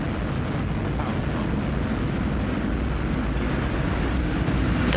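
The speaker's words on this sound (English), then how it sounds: "We have liftoff of Northrop Grumman's 18th Commercial Resupply Services mission." Northrop Grumman Antares rocket lifting off on the NG-18 cargo resupply mission, a steady, dense broadband roar with deep rumble that holds loud and unbroken throughout, with no voices.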